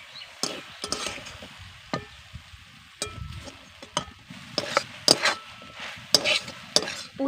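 Beet filling for Bengali pitha stir-fried in a pan after a splash of water, giving a low sizzle under repeated scraping and stirring strokes of a spoon against the pan, close and fairly busy throughout.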